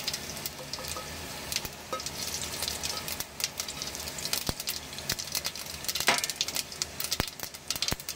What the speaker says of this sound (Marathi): हे बघा ही राई ना छानपैकी तडकली पाहिजे